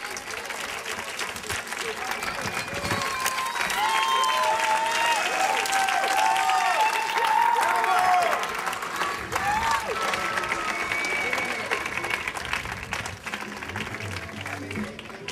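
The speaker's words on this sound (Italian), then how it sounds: "invito Matteo a salire sul palco e l'accogliamo con un piccolo applauso." An audience applauds at a festival award ceremony, sustained dense clapping that swells then gradually thins out, with a voice speaking over it at times.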